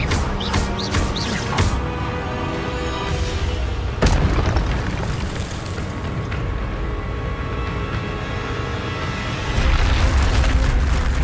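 Booming magical blasts from a fire spell in Hogwarts Legacy: several sharp impacts early on, then a large explosion and a roaring, rumbling burst that keeps sustaining, with game music running underneath.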